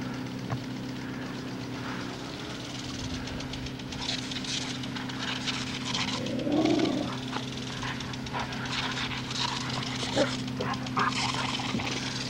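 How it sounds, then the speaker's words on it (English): A dog barks and whimpers outdoors while biting at a garden sprinkler, with brief yelps over a steady hum and faint background noise. "What are you barking at?"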